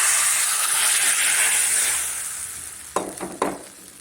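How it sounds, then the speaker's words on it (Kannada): Mustard seeds and curry leaves sizzle in hot oil for a South Indian tempering, a steady close hiss that fades toward the end before two sharp crackling spurts; no talk. "ಈ ರೀತಿ ಇಂಗನ ಒಗ್ಗರಣೆ ಹಾಕಿದ್ರೆ ಸಾಸಿವೆ ಕರಿಬೇವು ಎರಡೇ ಸಾಕು"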